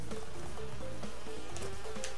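In Crash Bandicoot 2: Cortex Strikes Back, a pursuing bee swarm keeps up a loud, continuous insect whine over rhythmic game music and short percussive effects.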